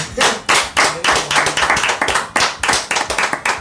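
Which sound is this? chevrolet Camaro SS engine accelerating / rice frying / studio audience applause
studio audience applause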